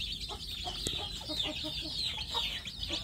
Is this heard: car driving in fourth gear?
no